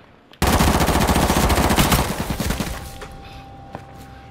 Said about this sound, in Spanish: pero por aquí oigo tiros